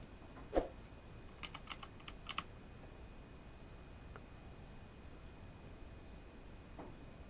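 Soft keystrokes on a Mac computer keyboard tap out a short burst of quiet clicks near the start, then stop, leaving faint room hiss with a few stray ticks.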